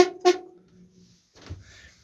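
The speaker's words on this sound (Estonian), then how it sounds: "pasun loomulikult" A boat horn on a moored houseboat gives two short, bright honks in quick succession, followed by quiet low rumbling and faint handling noise.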